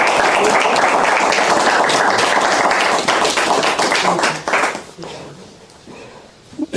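An audience applauds at a lecture on personalism, a dense loud clatter of clapping hands that fades after several seconds into quieter room sound.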